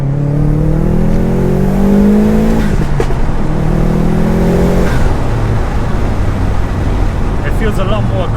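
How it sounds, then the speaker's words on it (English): Subaru Impreza P1 rally car running an anti-lag system, engine revving loudly close by with a sharp burst of overrun crackle mid-clip and rough, popping idle afterward. "so we just turned the ALS on. You can hear a lot of overrun as well."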